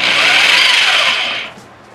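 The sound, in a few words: power drill running as improvised lathe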